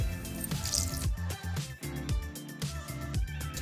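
A thickening slurry poured into a cholent pot, giving wet squishing and dripping sounds under a steady, busy background of kitchen noise and tones.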